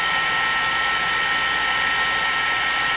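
Heat gun blowing hot air to melt white embossing powder on a handmade birthday card, a loud, steady close-up whooshing hiss that runs without a break, with no voices.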